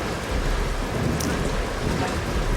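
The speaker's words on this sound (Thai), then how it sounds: "สวยซ้ำสวยซ้อนฝนตกอีก" Heavy rain pours in a dense, even hiss with a brief crack of thunder partway through, loud and enveloping, with no speech over it.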